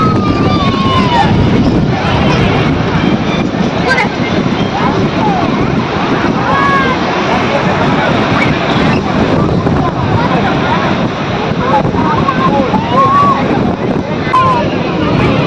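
Waves and wind at Digha beach, a dense steady roar of surf and wind buffeting the microphone with distant crowd babble underneath.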